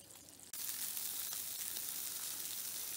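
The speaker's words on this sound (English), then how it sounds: "Okay, pork chops are on the griddle now." Pork chops land on an outdoor griddle, and after a brief quiet moment a loud, steady sizzle of frying meat takes over and continues without talk.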